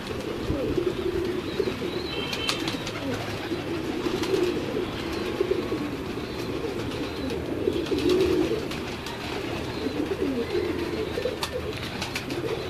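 Several teddy pigeons coo steadily and softly, overlapping low rolling calls, with occasional faint chirps in the background.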